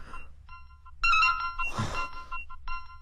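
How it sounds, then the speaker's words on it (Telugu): A mobile phone ringtone plays for an incoming call in a Telugu comedy scene, a melodic electronic tune in short repeated phrases with a brief thump in the middle. "మళ్ళీ వీడు ఫోన్ చేశాడు."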